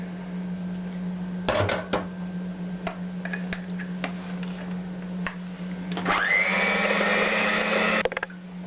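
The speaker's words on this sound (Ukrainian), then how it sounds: "Яйця з цукром я взбила." An electric mixer whips eggs with sugar, whirring steadily over a low hum, with clinks of beaters against a bowl, then revs up louder for the final seconds.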